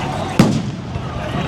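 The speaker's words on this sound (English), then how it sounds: "People are lighting off fireworks here on the streets." Fireworks are set off on a city street during unrest in Los Angeles, with one sharp, loud bang followed by a fading rumble over steady background noise.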